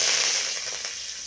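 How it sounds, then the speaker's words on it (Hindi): Curry leaves dropped into hot oil for frying onions in a drumstick (sahjan) curry, giving a loud, dense crackling sizzle that hits at full strength at once and then eases off slightly. "और हम लोग करी पत्ता डाल लेते हैं"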